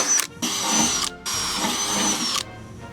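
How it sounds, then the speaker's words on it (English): A power drill whines in three bursts drilling fan holes in a PC case, stopping and starting between holes, close and loud with high-pitched motor tone. "the only thing I have to do is drill holes for the fans"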